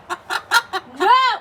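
A chicken clucks close by after the corn harvest, giving four short evenly spaced clucks and then a longer rising-and-falling squawk, loud and alone.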